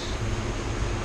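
A paint blower aimed at a freshly coated, still-wet Tesla hood gives off a steady, close broadband rush of air, even and unbroken throughout with no voices.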